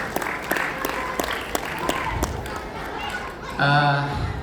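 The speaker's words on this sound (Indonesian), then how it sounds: "Kita tepuk tangan dulu untuk ayah-ayah yang hebat pada hari ini." Audience applause at a school foundation gathering with parents, a broad clapping wash that continues under a speaker's voice and then gives way to a brief louder burst near the end.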